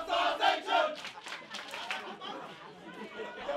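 Crowd at a wrestling match cheering for Paksa, a mass of shouting and chattering voices, loud at first and then easing into a steadier murmur.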